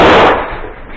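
A grenade detonates in combat near Ugledar, a single loud close blast that opens at full force and fades into a rumbling, crackling tail over about a second.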